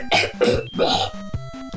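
A person fake-coughs several times in short, forced bursts, close to the microphone, with faint background music underneath.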